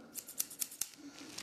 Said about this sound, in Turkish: Bir tane makas.